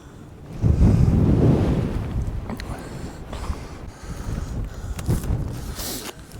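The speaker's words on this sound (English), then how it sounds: "I'm not out the wind at all." Wind gusting across an exposed mountain ridge on Helvellyn in the Lake District, a loud low roar buffeting the microphone that swells early, eases, then surges again, with no voices.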